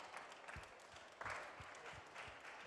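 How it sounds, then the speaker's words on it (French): An audience at a school award ceremony claps steadily and fairly faintly, a continuous patter of applause from a moderate distance with no voices over it. "On vous applaudit très fort."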